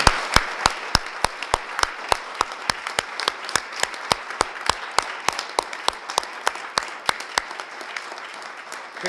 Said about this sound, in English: could everyone else honor them with a round of applause?